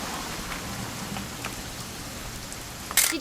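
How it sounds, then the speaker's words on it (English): Steady rain in the video game What Remains of Edith Finch, a soft, even hiss of falling drops under a low ambient hum, ending with a brief sharper burst near the end. "It's gonna rain the whole weekend, isn't it?"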